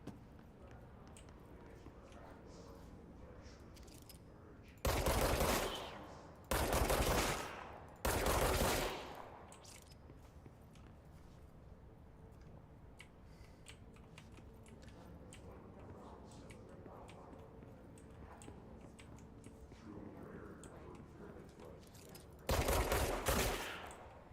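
Video game gunfire shoots at floating bodies in bursts of loud rapid automatic fire, three close together early on and another near the end, with talking in between.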